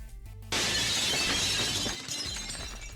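A shatter effect from the Marvel Legendary video game bursts in suddenly as a loud, bright crash of breaking glass, then trails off into a sustained glittering wash.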